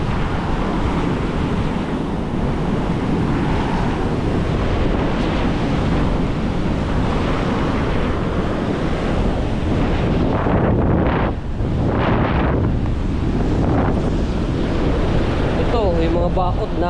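Sea waves wash onto an eroding shore where fences are being broken, a continuous loud roaring surge with heavy wind buffeting the microphone throughout and a few rising swells near the end.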